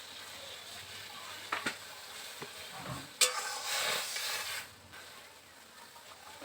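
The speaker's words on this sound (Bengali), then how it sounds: "আমার জলটা একদম ফুটে উঠেছে, দেখুন" Salted water at a rolling boil in a pot on the stove, a faint low bubbling hiss with a few soft clinks and a brief louder burst of bubbling and stirring midway.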